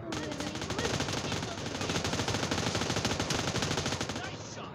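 Sustained automatic gunfire from the PUBG battle royale game rattles continuously in dense rapid bursts, loud and close, filling the whole stretch before tapering off at the end.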